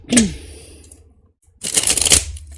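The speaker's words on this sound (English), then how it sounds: "let me just do a quick riffle shuffle here" Tarot cards riffle shuffled by hand, a short crisp burst of rapid flutter followed by a pause, then a longer dense ruffle of cards snapping together, close and fairly loud.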